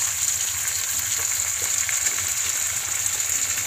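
Potatoes and carrots sizzle and fry steadily in a hot pan for a Bengali-style chicken stew, a loud continuous crackling hiss with no pauses.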